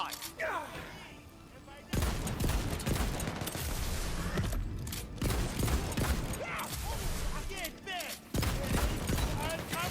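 Weapons firing in a Tiny Tina's Wonderlands gameplay session, including sticky-variant Torque guns, heard as dense, loud bursts of rapid shots and mechanical clatter running almost continuously, with one brief gap, under game sounds.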